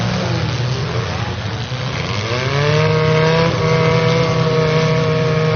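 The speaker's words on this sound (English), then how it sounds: "There was 5 rear-wheel drive cars, 6 now, still out there in the fray." Rear-wheel-drive demolition derby cars churn through mud at the Bash For Cash 2019 event, with loud, continuous engine drone and rising revs from several vehicles, no clear impact heard.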